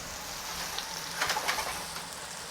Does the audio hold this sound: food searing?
yes